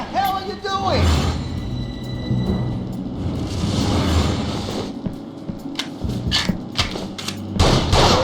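Sharp gunshots and heavy thuds from the video game Urban Chaos: Riot Response, scattered across a busy mix of shouting voices and game noise, with a louder burst of fire at the end.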